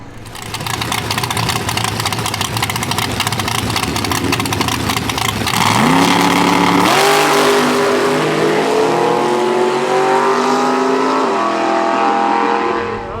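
A drag race car on radials makes a shakedown run at Orlando Speed World, its engine loud and near, rumbling steadily before surging into a hard acceleration with rising pitch through several gear changes.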